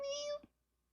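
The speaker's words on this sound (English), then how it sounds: "Did you guys hear him? He's like, meow, meow." A cat gives a single short, clear meow up close, followed by a faint soft squeak, in an otherwise quiet room.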